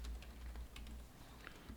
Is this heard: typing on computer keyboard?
yes